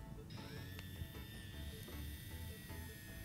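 An electric makeup brush hums steadily up close, with a whirring motor tone that rises in pitch as it spins up, followed by a faint continuous buzz with no talk.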